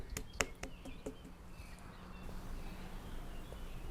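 A few short, faint bird chirps sound near the start of a music video's soundtrack, then fade into a quiet, low background hum.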